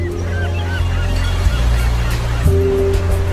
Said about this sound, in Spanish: bajo las chillonas gaviotas